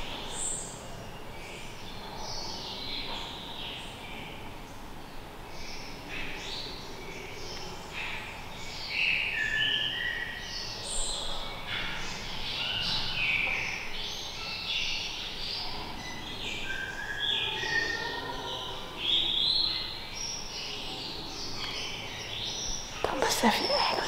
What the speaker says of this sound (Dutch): met al die vogeltjes die zo fluiten